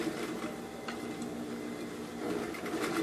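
Sewing machine stitching a pocket onto a bag, a steady mechanical whir with fine rapid ticking that runs continuously and close by, with no one speaking.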